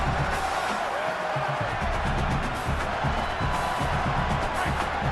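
A home stadium crowd at a college football game roars steadily as the defense tries to get off the field on third down, a dense, continuous wall of cheering heard from within the stands.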